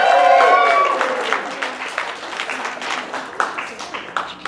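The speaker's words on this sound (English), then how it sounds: "Round of applause for our volunteers!" Applause and cheering from a convention panel audience, loud at first then thinning into scattered claps with some voices mixed in.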